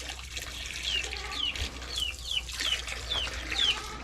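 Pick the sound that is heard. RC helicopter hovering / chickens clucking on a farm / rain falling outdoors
chickens clucking on a farm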